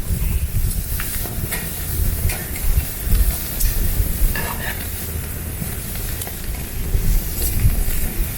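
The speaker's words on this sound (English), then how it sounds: "Oh, I love that sizzle." Skirt steak sizzling on a camp cooker over a possible bit of flame at a beach campsite, a steady close frying hiss with faint stirring and clinks over low outdoor rumble.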